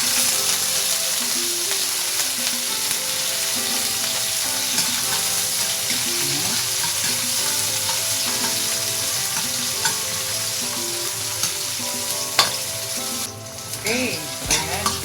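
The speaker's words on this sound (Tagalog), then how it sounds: "kapag mainit na yung ating mantika, igigisa na natin yung ating bawang at sibuyas" Garlic and onion sautéing in a little hot cooking oil for ginataang monggo make a steady, close, dense sizzle that runs unbroken throughout, with a few faint stirring clinks near the end.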